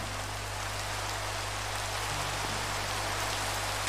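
Steady rain falls in a video game, a continuous even hiss of drops on surfaces that holds at the same moderate level throughout with no voices.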